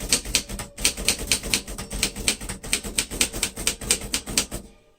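A 1941 Royal Companion manual typewriter typing in a fast, steady rhythm of sharp, close keystrikes, with one brief pause before the clatter resumes and stops abruptly.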